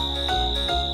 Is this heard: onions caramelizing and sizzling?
no